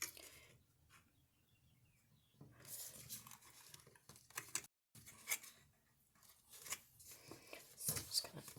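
Scissors snipping through paper while making a wall art and treat box craft, a few short crisp cuts close by, quiet between snips, with occasional faint handling noises.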